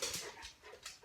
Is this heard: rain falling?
no